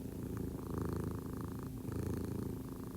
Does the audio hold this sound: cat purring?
yes